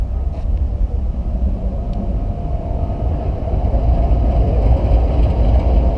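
A train passes near abandoned apartments in Detroit, a steady, heavy low rumble that slowly grows louder over several seconds with no voices.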